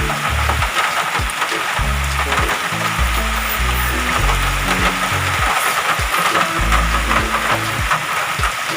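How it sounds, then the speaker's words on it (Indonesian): Heavy rain pouring down outdoors onto a flooded road, a loud dense steady hiss with irregular low thumps and splashes underneath, continuous with no voices. "hujannya begitu deras, air sudah menggenangi jalan yang kita lalui"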